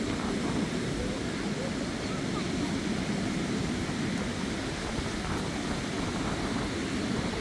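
Sea waves wash onto a windy Andaman Sea beach on a stormy evening, a dense, steady roar of surf and wind with no clear breaks, heard from the shore.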